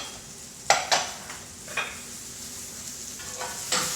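Wild ramps fry in a pan on a stovetop with a steady soft sizzle, punctuated by a few brief scrapes and clinks of a utensil stirring.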